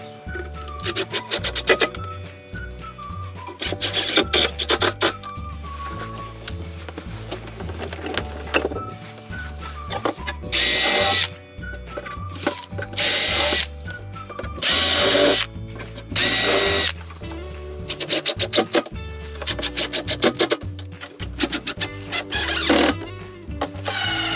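A power drill drives screws to fix new panels to a router table frame and its back panel. Loud, close whirring bursts repeat with short gaps and a ratcheting edge between them.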